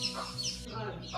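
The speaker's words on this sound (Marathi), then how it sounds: "इकडं कोंबड्या सुकटीवर झुजून पडल्यात." Hens cluck briefly in a Konkan village, where they are scratching at dried fish; a short, close burst of clucking with no talk.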